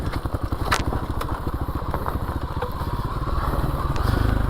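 A dirt bike on a wooded single-track trail runs with a rapid, throbbing engine pulse while descending a downhill, close and steady with occasional clatter and crackle from the terrain.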